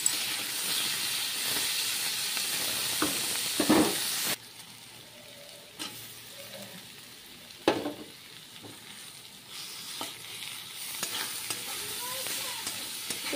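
Vegetables fry in oil, a loud hissing sizzle at first that drops to a quieter simmer, with occasional scrapes and knocks of stirring, no speech.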